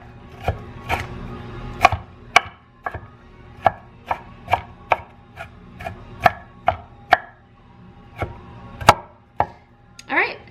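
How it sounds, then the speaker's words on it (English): A big knife chops vegetables in a quick, uneven series of about twenty crisp, close knocks, with short pauses between bursts and no talking. "I'm just gonna take a big knife, and I'm gonna literally just chop it."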